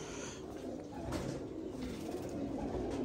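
Pigeons, flying birds kept by a fancier, coo softly in a low steady murmur, close and continuous over quiet background noise.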